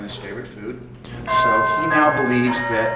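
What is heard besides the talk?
doorbell ringing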